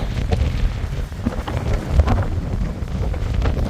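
Strong wind on a bridge in York buffets the microphone in a steady, rumbling roar, gusting throughout with no speech.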